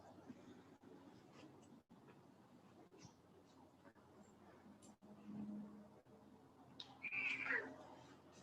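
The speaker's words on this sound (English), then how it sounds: "I love the noises coming out of this kitty." A pet kitty meows and vocalizes quietly over several seconds, with a louder, higher meow near the end, faint and close with light background noise.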